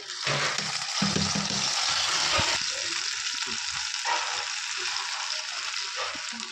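Wheat huggi mixture frying in hot ghee, a bright continuous sizzle that stays loud and even, with some low knocks and stirring sounds early on.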